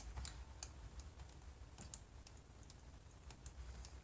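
Numbers are keyed into a calculator's data list, a steady run of light, close plastic keypad clicks at an uneven typing pace over a faint background hiss, with no talk.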